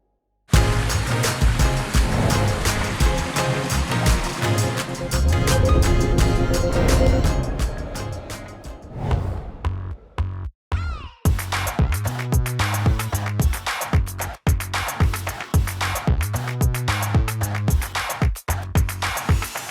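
Water rushes steadily down a steep backyard pondless waterfall into a 16-foot stream, a loud continuous splash and roar heard close up with no talking.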